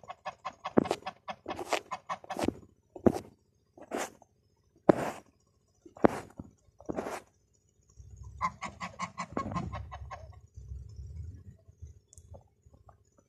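A broody goose sitting on her eggs honks and hisses in repeated loud bursts as someone comes near, with softer clucking calls and low rustling in between, close by.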